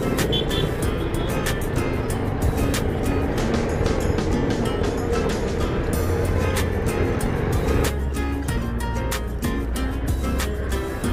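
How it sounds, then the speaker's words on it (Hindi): Busy road traffic in Hyderabad, a dense continuous roar of engines and passing vehicles with scattered horn-like blips and a low engine drone rising toward the end, loud and close. "ये हैदराबाद की ट्रैफिक है"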